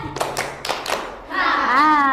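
Students in a classroom group-guidance game clap together in a few crisp, quick strikes, then a voice speaks right after.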